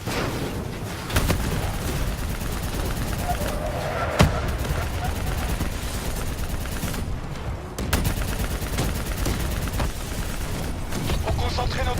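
Black Ops 3 campaign firefight against bots, with dense, sustained gunfire and occasional booms, a player's voice talking over the noise.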